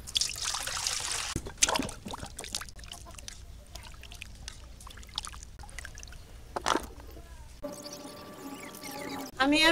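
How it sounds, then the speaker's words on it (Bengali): Taro is rinsed by hand in water, with light splashing, trickling and dribbling sounds and occasional sharper knocks, quiet and irregular throughout. "কচুগুলো ধুয়ে নেই আমি।"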